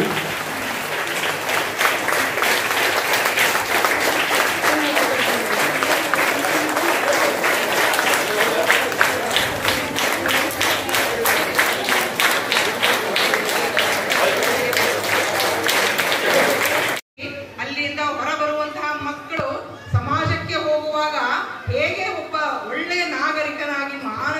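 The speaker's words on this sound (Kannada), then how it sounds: "ಎಲ್ಲ ಅತಿಥಿ ಮಹೋದಯರನ್ನ ಇನ್ನೂ ಜೋರಾದ ಚಪ್ಪಾಳೆ ಮೂಲಕ ಈ ಒಂದು ಭವ್ಯವಾದ ಕಾರ್ಯಕ್ರಮಕ್ಕೆ ಸ್ವಾಗತಿಸೋಣ" Loud, sustained applause from an audience welcoming guests at a district-level school reopening celebration in Belagavi, steady dense clapping for about seventeen seconds before it cuts to a voice over background sound.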